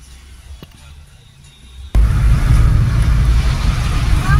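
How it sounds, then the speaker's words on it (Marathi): Cars idling and creeping forward in a traffic jam on a police-closed road near Malvan on Navy Day, with a broadband engine and traffic roar that starts abruptly partway through and stays loud and steady. "ट्रॅफिक जाम झालेला आहे।"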